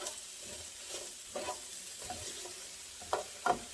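Pork chops sear in a pan with browned fond, making a quiet sizzle broken by a few soft clinks and scrapes, the last two sharper near the end, with no voices.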